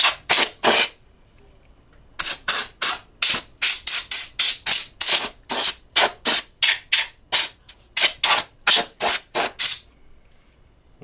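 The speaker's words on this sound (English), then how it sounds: "take your can of compressor air spray and just kind of blow" Repeated short bursts of compressed air hissing from a spray can, blowing dirt from a coin changer hopper, close and loud, in quick rhythmic puffs after an opening few blasts and a pause.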